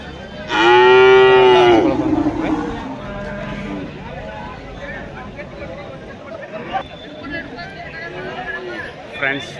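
Javari cows at a cattle market in Nulvi, one loud, close, drawn-out moo near the start, followed by fainter calls amid crowd chatter and market noise.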